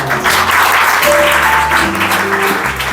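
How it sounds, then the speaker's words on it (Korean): Applause from a graduation ceremony audience congratulating award-winning students at a high school commencement, a steady dense wash of clapping filling the room throughout, with faint tonal hum beneath and no voices standing out. "이상 모든 학생들에게 축하의 박수 부탁드립니다."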